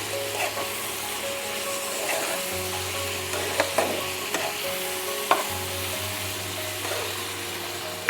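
Garlic prawns being stirred with salt in a pan, with a steady sizzle under scattered scraping strokes of a utensil and a low hum throughout, no talking.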